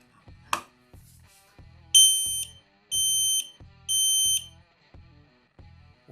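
Three loud, piercing smoke detector test beeps, each lasting about half a second, sound at even intervals over a soft, repeated low tapping.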